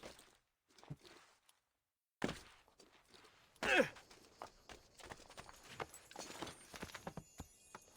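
Horse hooves clip-clop on a town street in Assassin's Creed II, a run of uneven, fairly quiet thuds with a louder knock partway through, heard under sparse game sounds.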